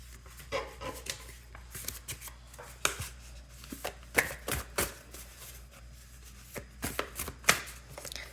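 Playing cards being shuffled and handled close up, irregular soft riffles and taps scattered throughout at low volume without any talking.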